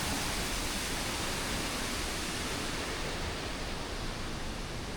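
Mother Falls in Aurora, a waterfall heard up close as a loud, steady, broadband roar of rushing water with no breaks.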